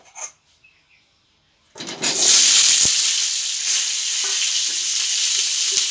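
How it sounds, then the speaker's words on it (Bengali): Pointed gourd (potol) pieces dropped into hot oil set off a loud, sustained sizzle. A few faint clinks come before the frying begins, and the steady crackle then holds close and strong to the end. "এবার তেল গরম হয়ে গেছে, দিয়ে দিচ্ছি পটলগুলো।"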